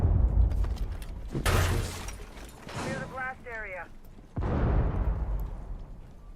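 Sharp explosive bursts and crashes from Rainbow Six Siege ring out between excited voices talking.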